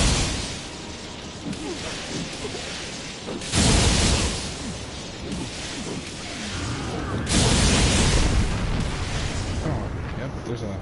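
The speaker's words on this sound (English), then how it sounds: "Oh, yep, there's a explosion." Heavy booming explosions in the Kingdoms of Amalur video game, two loud broadband blasts a few seconds apart, with roaring, crackling debris and dense game noise filling the gaps between them.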